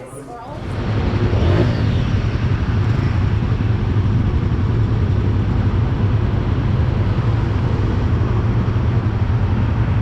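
Royal Enfield Himalayan 450 motorcycles idle steadily with a low engine rumble that starts abruptly and holds nearly constant, close by, with outdoor background noise.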